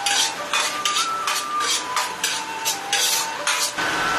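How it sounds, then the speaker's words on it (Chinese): Minced pork with garlic and chopped bird's eye chili is stir-fried in a hot wok, a spatula scraping and clanking against the metal in quick repeated strokes over a steady close sizzle, with no voices. "下大蒜和小米辣，少许翻炒"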